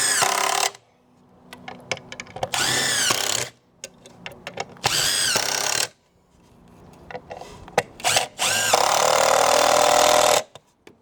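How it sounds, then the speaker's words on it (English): A power drill driving deck screws into wooden posts and gussets of a water wheel frame, four loud whirring bursts of a couple of seconds each rising in pitch, separated by quiet pauses with small knocks. "just run some deck screws in"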